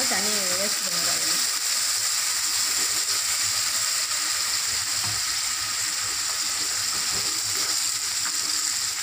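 Sprouted chickpeas poured with their soaking water into a cooking pan for a Tamil sundal kulambu give a steady, close hiss and wash of liquid that carries on throughout, with a brief voice at the very start.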